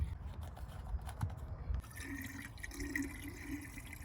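Coolant is poured onto a Ford F-350 radiator and spills over its sides, making a soft trickling and splashing sound that turns into a steadier faint pouring stream partway through.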